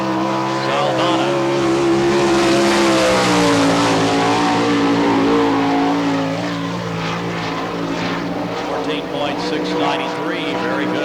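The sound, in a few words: sprint car racing a lap on speedway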